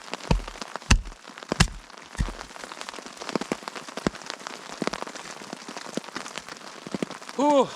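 Heavy winter rain drums steadily on a tent, a dense continuous patter with scattered louder drops and a few sharper knocks, close and fairly loud, with no talking.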